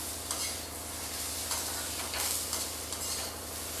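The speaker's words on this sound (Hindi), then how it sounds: "शिमला मिर्च को मैंने लगभग 1 मिनट के आसपास भून लिया है" Capsicum stir-fried in a hot pan for paneer bhurji: a steady, close sizzle runs throughout, broken by repeated scraping strokes of a spatula. No one speaks.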